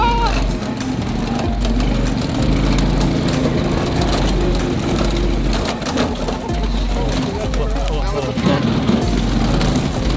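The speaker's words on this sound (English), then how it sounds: "Well, it's got motor." A small motor runs steadily on a rebuilt homemade car, a constant rough drone with a low hum throughout and people talking over it.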